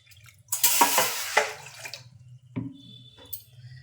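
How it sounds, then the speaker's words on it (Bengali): Water pours into a pot set on a gas stove while making kala jamun: a short, bright splashing gush that tapers off, then a few smaller splashes and drips over a low steady stove hum. "আমি গ্যাসে একটা পাত্র বসিয়েছি জল দিয়ে দিচ্ছি"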